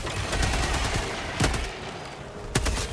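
Gunfire in the video game Helldivers 2, a dense rattle of automatic shots with two sharper, louder blasts standing out, continuous and close.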